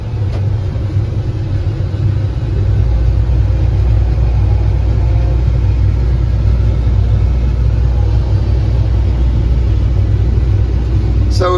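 A big track hoe excavator's diesel engine runs loud and close as the machine is driven, a steady low rumble with slight shifts in pitch and a brief rise near the end.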